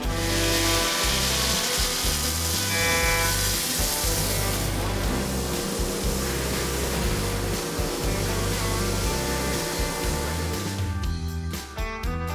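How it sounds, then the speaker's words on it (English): A milling machine cuts solid blocks of aircraft-grade aluminum for a shop gauge body, a loud continuous whining grind with shifting tones, easing and breaking into a choppier rhythm near the end. "the body of the tool is milled out of solid blocks of aircraft-grade aluminum"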